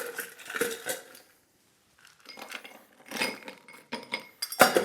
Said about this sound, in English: We're going to put a little bit of ice in the glass.